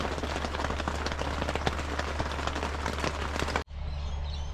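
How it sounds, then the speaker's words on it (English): Steady rain drums on the roof of a parked van, a dense close patter that runs continuously, cuts out abruptly, then resumes more softly. "As we sit here in the van in the rain."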